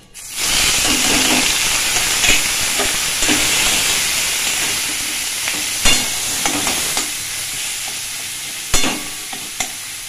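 Chhana (cottage cheese) frying in hot oil flavoured with cardamom, a loud, dense sizzling hiss starting abruptly and continuing throughout, with occasional scraping knocks of a spatula stirring in the pan.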